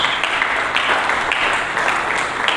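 Church congregation applauding for Jesus during a sermon, a loud, dense, sustained wash of clapping with faint rhythmic accents throughout.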